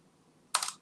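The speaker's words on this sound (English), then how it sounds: "I'll type" A quick burst of typing on a computer keyboard, a short cluster of clicky keystrokes heard close and alone after a moment of near silence.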